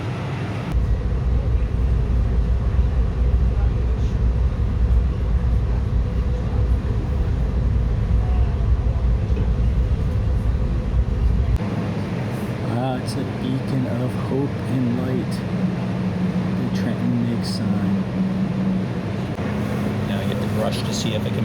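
A commuter rail train on a local service runs at about 75 mph, giving a steady low rumble and roar throughout. Partway through, the tone shifts as the running noise thins and clattering and mechanical whines come through more clearly.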